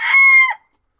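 A single rooster crows once, loud and close, in a short clear cock-a-doodle-doo that cuts off abruptly into silence.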